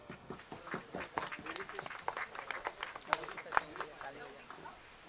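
Scattered audience clapping at a film trailer launch event, uneven claps close by with crowd murmur and brief speech, lasting throughout at a moderate level.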